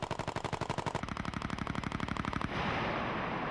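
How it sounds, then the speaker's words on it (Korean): Cobra attack helicopter gun firing at a target, a loud close rapid burst of evenly spaced shots that merges into a continuous roar and then steady rotor and engine noise for the last second. "사격 개시 명령이 떨어지고 그녀가 방아쇠를 당긴다."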